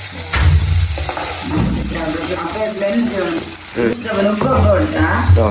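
Oil sizzles and crackles steadily in a pan as mango and chillies fry in a Jaffna home kitchen, with stirring clatter and a voice talking over the cooking.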